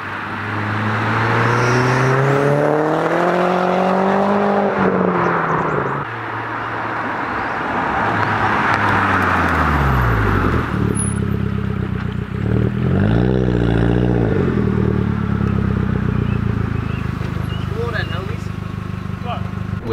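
A Cupra car drives along steadily during rolling shots, its engine droning and shifting in pitch as it accelerates, close and loud beneath ongoing conversation.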